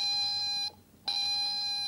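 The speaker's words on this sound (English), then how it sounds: "The alarm goes off." A homemade fire alarm built with a bimetallic strip rings loud and steady at close range, cuts out briefly, then starts ringing again.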